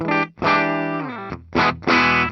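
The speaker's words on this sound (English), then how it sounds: "That bridge has a nice round sound to it." Clean electric guitar chords from a 1990 Les Paul Standard bridge pickup ring out in bursts, warm and round with sustained harmonics, with short gaps between strums and no voices.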